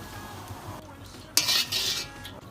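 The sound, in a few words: Sichuan peppercorns sizzling in oil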